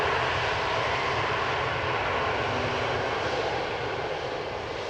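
An EasyJet Airbus A320neo jet airliner arrives at Amsterdam Schiphol Airport with a steady, loud, broad engine roar that holds constant throughout.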